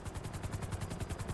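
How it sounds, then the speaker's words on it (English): GTA Online helicopter, its rotor thumping in a fast, steady rhythmic chop, fairly faint and sustained throughout. "Nice helicopter."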